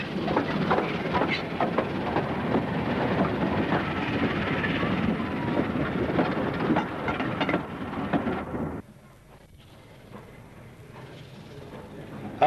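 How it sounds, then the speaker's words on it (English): A BR Standard 4 steam locomotive rumbles steadily into Ramsbottom Station on the East Lancs Railway in 1990, with a continuous clattering roar that drops away sharply near the end. "Standard 4 entered Ramsbottom Station in May of 1990."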